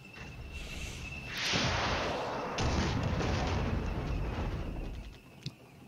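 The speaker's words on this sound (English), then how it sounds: "They appear to be shooting." Artillery and gunfire rumble through a Flash Points Southern Storm battle, a sustained, booming roar with scattered distant shots and one sharp crack near the end.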